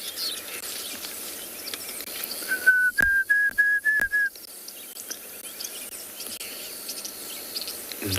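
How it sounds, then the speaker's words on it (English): Diederik cuckoo on a South African morning safari, a short run of clear rising whistled notes repeated about five times in quick succession, moderately distant over a steady insect and ambient hum. "I can hear Deirdre's cuckoo in the distance."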